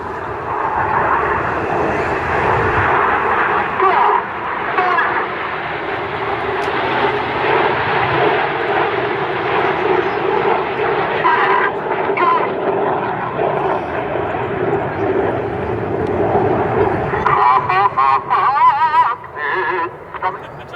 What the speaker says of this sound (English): The inside pilots perform tight matched barrel rolls to the outside of the formation in the rollbacks